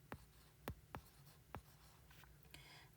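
Chalk or marker strokes on a board during a logarithm lesson in a math class, four or five distinct scratching strokes spaced irregularly, close and clear with no talking.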